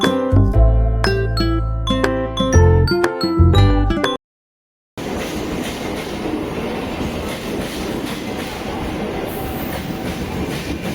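A train at Dadar railway station in Mumbai, opening with a run of loud tonal horn-like blasts and a short silence, then steady rumbling wheel and carriage noise close by.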